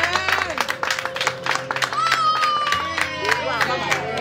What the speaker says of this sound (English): Let's give a hand of applause to them.